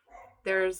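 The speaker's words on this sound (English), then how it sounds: "sorry about the dogs" Dogs bark close by in a short burst: one softer yelp and then a loud sharp bark. A voice speaks briefly over them.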